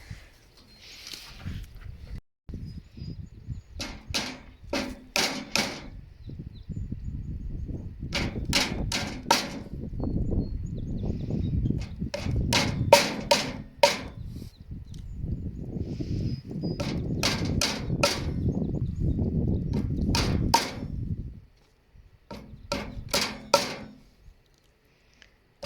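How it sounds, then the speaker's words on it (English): A hammer knocks wooden dowels flush into a log being inoculated and sealed with wax, a series of sharp close strikes in irregular bursts with some quieter handling between. "hammer it in the rest of the way so it's not sticking out"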